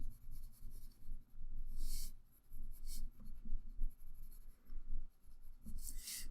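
Pencil shading in a drawing of a nose, soft rhythmic graphite strokes scratching across paper in repeated bursts, close and fairly quiet with no speech.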